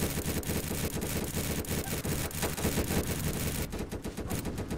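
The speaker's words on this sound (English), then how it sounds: "Watch out, you don't get in the minigun beam!" A minigun firing continuously in the game Guts & Blackpowder, a dense, rapid rattling stream of shots that holds steady and loud throughout, with no speech.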